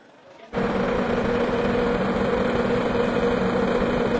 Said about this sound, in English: It's a jet engine.